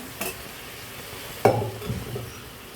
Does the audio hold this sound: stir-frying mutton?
yes